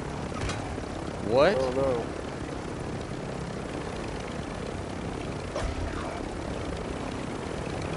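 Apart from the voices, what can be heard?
helicopter in Call of Duty Warzone 2 video game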